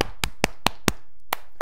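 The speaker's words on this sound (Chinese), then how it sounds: "你帮我鼓鼓掌" A single person claps slowly, six or seven crisp, evenly spaced claps, close and clear with no crowd or talking.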